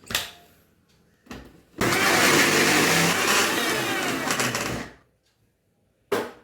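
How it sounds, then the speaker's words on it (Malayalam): Mixer grinder grinding batter for boli: two short pulses, then a loud, steady whirring grind lasting about three seconds that stops abruptly, followed by a final brief burst. "അത് തീരെ നല്ലോണം അരഞ്ഞിട്ടില്ല കുറച്ചുകൂടെ അരയ്ക്കണം"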